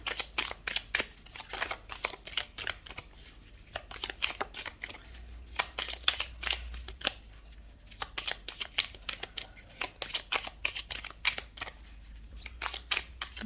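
A deck of cards is shuffled for a tarot-style card reading, a quiet run of quick riffling bursts and soft flicks repeating across the stretch, with no voices.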